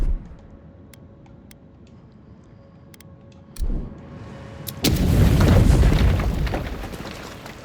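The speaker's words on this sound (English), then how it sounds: "Oh, grenade time." A grenade goes off in the video game Avowed: after a quiet stretch of faint ticks, a thud lands, then a loud, booming blast that rumbles and slowly fades.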